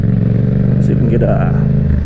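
A 2019 Yamaha MT-07 motorcycle engine runs loud and steady throughout, with a mid-range rev rising briefly partway through, heard up close without a clear break.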